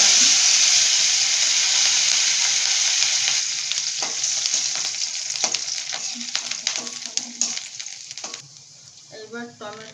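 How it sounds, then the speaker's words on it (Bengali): Dried red chillies and whole cumin seeds sizzle in hot oil in a pan, a loud steady fry that thins out into scattered crackles and pops, with stirring clinks near the end. "দুটো শুকনো লঙ্কা দিয়ে দিলাম, কয়েকটা গোটা জিরে দিয়ে দিলাম"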